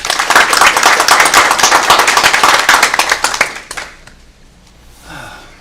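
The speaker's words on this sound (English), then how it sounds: "another round of applause for Denise." Audience applause at a college board of trustees meeting, dense and loud clapping from many hands for several seconds before tapering off to quiet.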